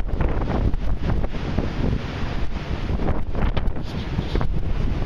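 Strong gusts batter the microphone on a stormy north Antrim coastline with the tide rushing in, a continuous loud roaring rumble that swells and dips throughout, with no voices.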